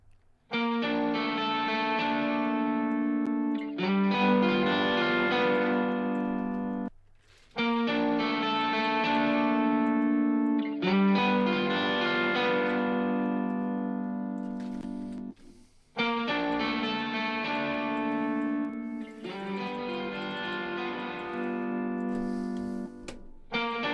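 Heavily distorted sustained guitar-like chords in a mix session, looping in long repeated phrases with brief gaps between them, loud and saturated with rich buzzing harmonics, no talking.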